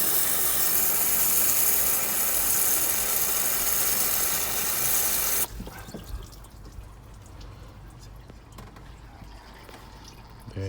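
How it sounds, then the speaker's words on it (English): Water sprays hard down a hose into the radiator of a 2008 Ford Territory, a loud hissing rush that stops halfway through, leaving quieter dripping and small clicks. "spray the water down the hose to clean it out even more."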